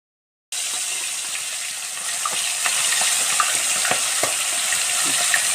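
Puthi fish rubbed with turmeric and salt frying in a hot pan, a steady dense sizzle from start to finish with small pops and crackles breaking through, no voices.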